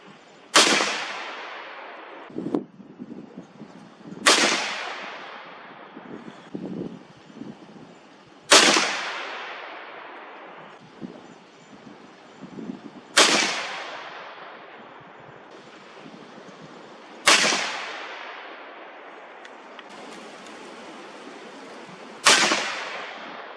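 Six sharp rifle shots from a 360 BuckHammer firing 180 gr Core-Lokt loads at a 100-yard range, each a loud crack with a ringing tail, spaced several seconds apart with no talk between them.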